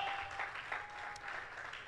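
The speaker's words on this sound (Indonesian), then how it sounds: "Ayo kasih tepuk tangan dulu" Congregation applause at a Sunday church worship service, a dense steady wash of clapping lasting about two seconds at moderate level, with no voices standing out.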